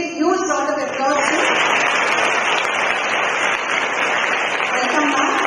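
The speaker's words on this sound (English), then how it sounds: "Please give a huge round of applause." Loud, dense applause from an audience welcoming a henna artist to a school art workshop, a sustained wash of clapping that follows a brief moment of speech at the start.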